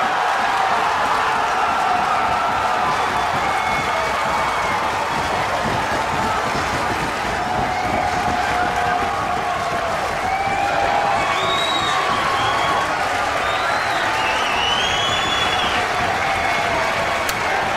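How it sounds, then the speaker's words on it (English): A virtual wrestling arena crowd in a WWE 2K match cheers and applauds in a dense, continuous roar with whistles and shouts rising above it, steady and loud throughout. "And just all of that crowd noise that's going on here."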